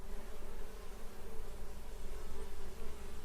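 Bees buzz in a dense, continuous drone, a close and steady hum with no voices over it.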